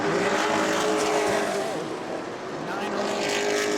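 Race cars roar around the track at the New Smyrna World Series, a loud, continuous engine drone that swells and dips slightly while a commentator talks over it.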